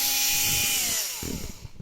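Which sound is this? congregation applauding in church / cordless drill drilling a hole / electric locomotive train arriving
cordless drill drilling a hole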